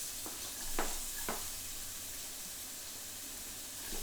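Whole spices, such as green cardamom, sizzle in hot oil for a South Indian mutton curry, with a steady frying hiss and a few sharp pops scattered through, close and moderately quiet.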